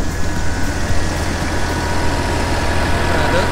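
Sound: silage harvester cutting grass, tractor engine

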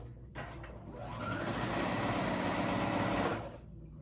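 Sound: sewing machine sewing closed a 2-inch gap in pants

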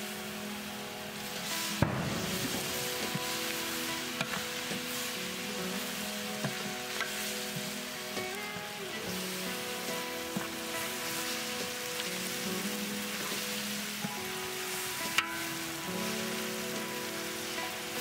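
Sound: ginger and garlic sautéing in a pan

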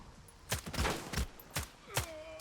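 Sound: gunfire in a video game

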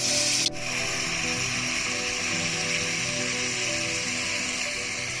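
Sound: stirring plov ingredients together in a pot

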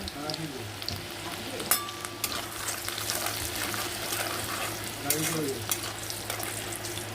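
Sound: garlic frying in a pan

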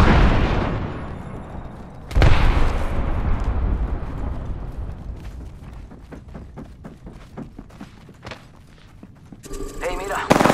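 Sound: Arc Star grenade explosion in the Apex Legends video game

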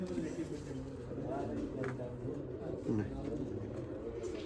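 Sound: pigeon cooing

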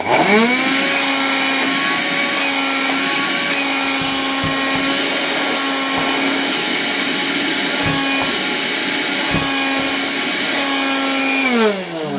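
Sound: handheld vacuum cleaner sucking up dry beans

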